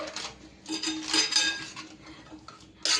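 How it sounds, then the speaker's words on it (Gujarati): Spoon scraping and clinking in a pot or bowl while mixing vada pav potato filling with sweet and green chutney, steady irregular metallic stirring strokes up close, with a louder clink at the end. "હવે તેને મિક્સ કરી લઈશું"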